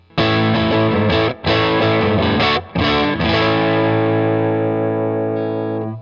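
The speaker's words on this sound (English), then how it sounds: "Let's hear it with some overdrive." An overdriven electric guitar, a Fender American Professional Classic Stratocaster on its neck pickup, plays a few warm, thick chords and short phrases, then lets the last chord ring out and slowly decay.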